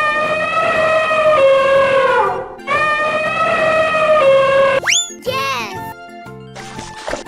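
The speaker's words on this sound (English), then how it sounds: "Elephant." A cartoon elephant trumpets in two long, loud, brassy blasts, the second cut off by quick squeaky rising whistles and a brief jingle.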